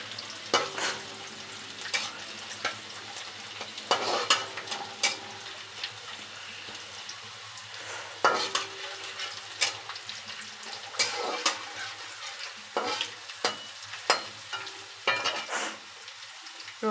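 Chopped garlic sizzles steadily in hot oil in a pan, with recurring scraping clicks of a spoon stirring it at close range; no voices.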